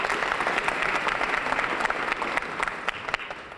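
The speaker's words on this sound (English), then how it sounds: "let's give all of our consultants a round of applause, please." An assembly audience at UAPB claps steadily, a dense roll of applause from a large crowd filling the hall for a few seconds.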